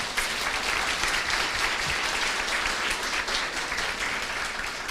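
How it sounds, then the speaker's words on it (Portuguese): Audience applause at a formal speaking event in Portuguese, a loud, sustained and even roar of many hands clapping from start to finish with no voices over it. "peço uma salva de palmas para ele"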